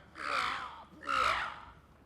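A crow gives two loud, harsh caws, each lasting about half a second, about a second apart, close by, over a low background hum.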